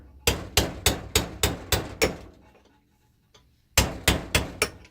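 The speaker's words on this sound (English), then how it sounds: "You have to bend the tab down. I use a chisel at a little bit of an angle." A hammer strikes a chisel to bend down a metal locking tab by a bolt on a Kawasaki KV75/MT1 engine case: two sharp runs of evenly spaced metallic blows, about seven then four, close and alone.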